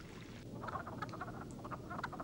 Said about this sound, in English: the ancient music of the frogs heralds the beginning